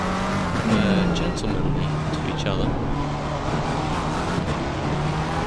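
Race car engine in a racing video game at Silverstone, holding a steady lower-pitched drone after an upshift into a high gear, running continuously under a commentator's voice.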